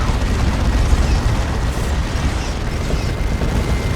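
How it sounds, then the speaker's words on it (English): Orbital bombardment explosions in the Dawn of War 2 strategy game form a dense, continuous roar of booming blasts that stays loud and steady throughout. "There's an orbital bombardment."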